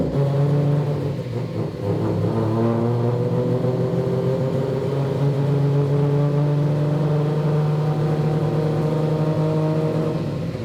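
A three-rotor Mazda RX-7 engine tuned past 1000 horsepower drones loudly and steadily up close, its pitch climbing through the gears as it accelerates, with no talk.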